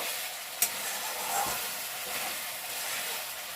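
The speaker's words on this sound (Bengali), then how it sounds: "মশলার থেকে তেল অলরেডি ছাড়তে শুরু করে দিয়েছে। এটাকে আমি ভালো করে ঘেটে নেব।" Thick spice masala frying in oil for a mutton-style jackfruit (echor) curry being stirred, a steady broad sizzle throughout with a soft scrape of the spoon near the start.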